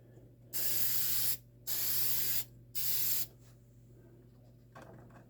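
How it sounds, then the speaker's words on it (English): Spray paint hisses from a can onto a 1969 Camaro body in three separate bursts, each about a second long, with short pauses between them and a low steady hum underneath. "A little spray, make sure there's no clogs in it."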